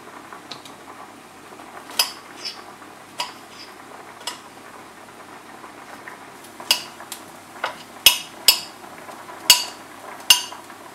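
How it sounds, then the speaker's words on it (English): A knife chops mushrooms and broccoli in a vegan home-cooking setting: irregular, sparse taps and clicks, soft at first, then a run of sharper, louder cuts near the end. "I'm going to cut up some mushrooms and some broccoli"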